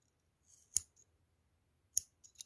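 Small scissors snip thread while making pearl earrings, two crisp close clicks about a second apart, then a couple of lighter snips, in quiet surroundings.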